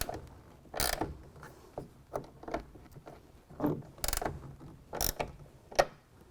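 A 1/2 inch ratcheting wrench tightens a clamp on a roll-up tonneau cover rail, giving repeated close clicking ratchet strokes in short uneven bursts, fairly quiet with no talking.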